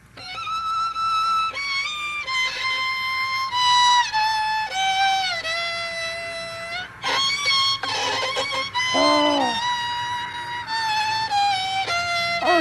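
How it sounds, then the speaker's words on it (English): Bowed violin melody with sliding, wavering notes and vibrato, sometimes swooping in pitch, played alone at moderate loudness with a brief pause partway through. "It's the sound of a violin,"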